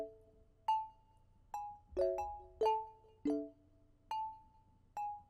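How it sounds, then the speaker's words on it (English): Layered synth chords with a xylophone-like pluck, seven or eight bright struck notes ringing out in a steady rhythm, some stacked into chords, clear and alone. "we're going to take the chords that we have and layer them with the xylo pluck"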